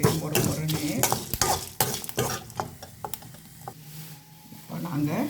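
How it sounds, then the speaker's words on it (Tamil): Almonds being fried in a little oil in a pan, the stirring giving a steady run of scraping and clattering knocks over a low sizzle, heard close throughout. "கொஞ்சம் எண்ணெய் விட்டு வறுப்போம். அதோட இந்த பாதாமையும் போட்டு பாருங்கள்."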